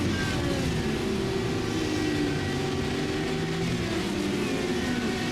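A race car engine in the iRacing video game roars loudly and continuously as it accelerates out of a braking zone at Circuit of the Americas, a dense, sustained mechanical drone with shifting pitch.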